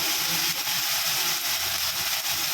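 Spices frying in a pan with onion, garlic, green chilli and ginger: a steady, loud broadband hiss and sizzle that runs continuously, with faint low clatter underneath and no talking.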